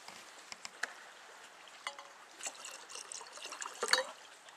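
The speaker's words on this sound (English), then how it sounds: "Now we can add the whiskey." Whiskey poured into a glass that already holds water, a soft close trickle with faint splashy dribbles and a few light clinks, fairly quiet and with no voices.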